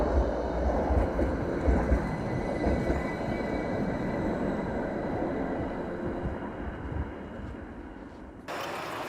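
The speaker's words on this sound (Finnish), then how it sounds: "Oliko se ratikka, kaupunkiratikka, pikaratikka vai pakko-ohjattu kiskolla" A tram rolls along city rails, a steady loud rumble of wheels on track with a low hum throughout, and a sudden shift in tone near the end.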